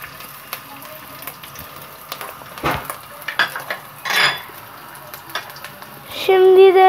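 Ginger sizzling and being stirred in hot oil in a pan, with scattered clinks of a utensil against the pan and a louder burst of frying near the end; no talk.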